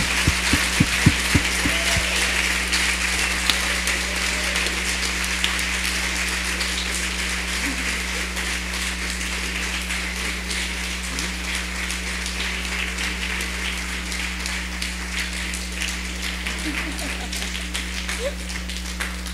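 Audience applause at a live gallery event fills the space, a dense steady patter of many hands clapping at moderate loudness, with a few sharp claps at the start and a low electrical hum beneath.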